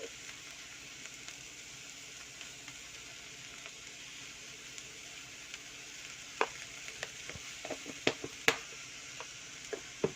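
Garam masala being stirred into a one-pot vegan pulao of Brussels sprouts and black chana, a soft steady scraping under a faint sizzle, with sharper clinks and scrapes of the utensil against the pot toward the end.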